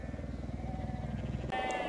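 Sheep bleat faintly and repeatedly on flat open ground beside a lake, a soft rhythmic bleating under steady low background noise.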